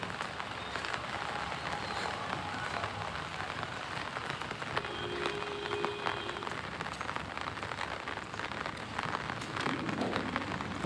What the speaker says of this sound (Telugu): వర్షం ఎప్పుడు తగ్గుద్దో తెలియదు